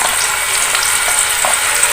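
Hand-ground spice paste frying in a pan for fried rice, a loud, steady hissing sizzle with light stirring scrapes, close up and alone.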